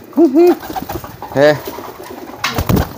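A giring-type pigeon coos loudly and close up in a few bursts of warbling, bubbling calls, with someone talking excitedly in between.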